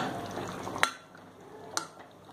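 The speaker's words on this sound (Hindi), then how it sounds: "और हम इन सबको मिक्स कर लेंगे।" A spoon stirs potatoes and onions into a simmering gravy in a pan, with a soft steady frying hiss broken by two sharp scraping knocks against the pan.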